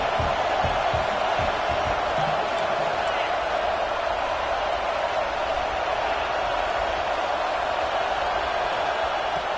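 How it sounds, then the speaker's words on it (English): A dense, steady roar of a large stadium crowd at an American football game fills the whole stretch, loud and continuous with no breaks. "Listen to this crowd just shaking the girders of this place, trying to help their defense."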